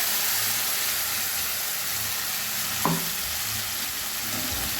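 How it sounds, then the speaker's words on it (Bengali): Ground spice paste of ginger, onion, garlic and cashew frying in hot oil in a pan over low to medium gas flame for a Bengali shol fish dish, a steady close sizzle with a brief sharp stir or scrape midway. "এবার আমি বাটা মশলাটা দিয়ে দিলাম।"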